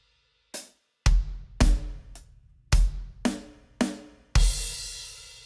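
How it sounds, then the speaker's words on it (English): A drum kit plays a fill from a song: kick and snare hits land in a quick uneven rhythm, then a loud, washy crash cymbal rings out at the end. The kit is close and clear, with no voices. "So it's more of a drum fill setting up that offbeat crash on the last eighth note of the second measure."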